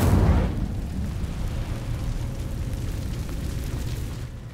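A fiery whoosh from the Incendio spell in Hogwarts Legacy bursts loudly at the start, then settles into a steady low rumble that lingers to the end.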